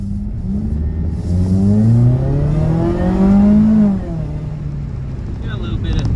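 Supercharged Mazda Miata ND2 RF with an Edelbrock supercharger and pedal commander accelerating hard, its engine note rising steadily in pitch through a gear, close and loud inside the cabin, then easing off.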